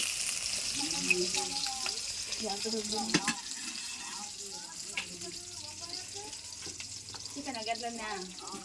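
Onions and tomatoes frying in a pan for a radish and dry fish curry, a steady close sizzle running throughout with occasional stirring clinks, while people talk over it.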